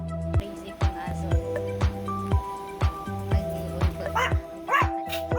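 A dog yaps in short, sharp barks repeated at a steady rhythm, close by, over a background of sustained musical tones.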